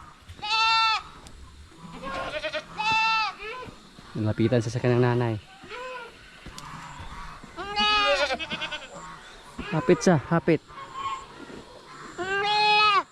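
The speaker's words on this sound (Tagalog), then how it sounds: "Yung kambing natin mga kaprobinsya, oh." Goat bleats repeatedly up close near a creek bank, a young one caught by the head in vines, with sharp wavering cries spaced a few seconds apart over a person talking throughout.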